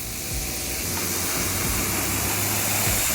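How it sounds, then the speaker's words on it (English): A high-pressure water jet blasts soapy car floor mats after foam washing, a loud, steady hiss with low spattering pulses throughout, close and uninterrupted. "Switch to a high jet power."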